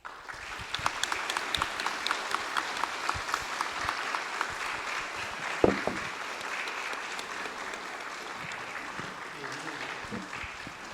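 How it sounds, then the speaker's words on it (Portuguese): Faint applause from a gathered audience at a tribute ceremony, a continuous soft patter of many hands with a few sharper claps standing out, heard from some distance with background murmuring. "Vamos todos dar uma salva de palmas para o nosso querido e amado irmão."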